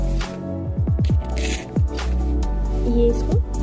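Soil and small stones scooped and pressed into a cheap flower pot while potting a sapling, giving close, wet squishing and crunching scrapes in short bursts, with a voice briefly in the background.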